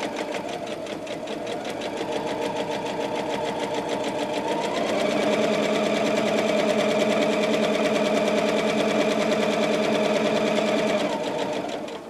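Close and steady, a sewing machine runs continuously while stitching fabric scraps together for a pot holder, its motor whir rising slightly in speed partway through before easing off at the end.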